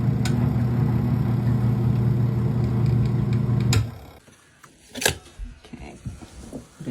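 A portable washing machine's motor hums and churns steadily for a few seconds, then cuts out, leaving quiet room sound with scattered clicks and light knocks.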